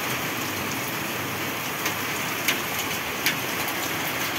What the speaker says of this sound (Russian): Хорошо, хоть град он где-то редкий.